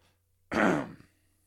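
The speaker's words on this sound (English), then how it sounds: "I have to clear my throat." A single rough throat clearing, loud and close, lasting about half a second amid near silence.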